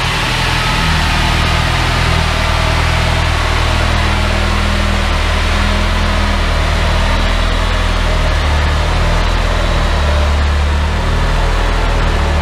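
A budget low-compression Ford Zetec turbo engine runs steadily on a dyno, a loud continuous drone with a strong low rumble and broad hiss that holds even throughout with no talk over it.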